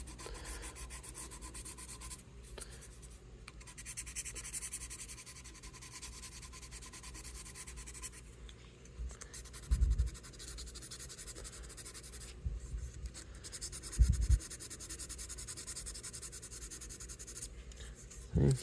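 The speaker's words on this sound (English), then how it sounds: "Limit the polishing to only the really necessary areas." Quiet, steady hand rubbing as an Epiphone guitar headstock repair is polished, a soft continuous scrubbing texture with a few faint knocks and handling bumps throughout.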